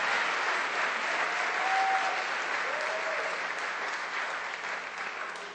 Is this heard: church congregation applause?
yes